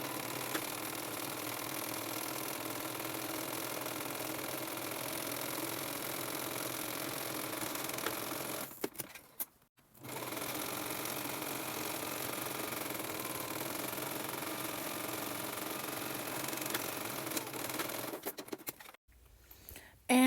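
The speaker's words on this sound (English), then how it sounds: "We're gonna sew the edges along the sides, these sides, through our sewing machine." A sewing machine runs a zigzag stitch along the side edges of a fabric lining for a crochet bag, humming in two long, steady runs separated by a short pause.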